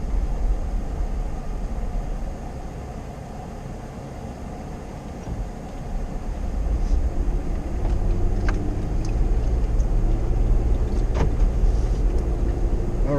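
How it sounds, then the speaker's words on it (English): A car drives down a street, its steady low road and engine rumble swelling slightly after the midpoint, with a few faint higher squeaks and clicks over the continuous noise and no talking. "we're going to take a little drive down the street"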